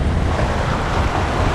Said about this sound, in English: he sees splashing water